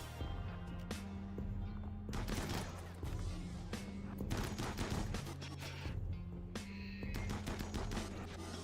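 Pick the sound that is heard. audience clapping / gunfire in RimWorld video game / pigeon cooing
gunfire in RimWorld video game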